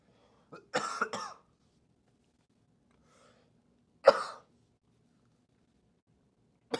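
A few short coughs, a quick pair early, then a single harsh cough a few seconds later, with near silence between.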